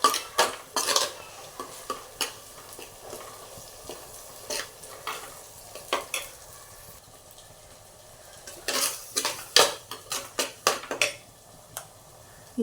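Ground masala frying in a pan for mackerel fish curry, with a soft background sizzle broken by repeated sharp scrapes and clinks of a spoon stirring against the pot, coming in irregular bursts.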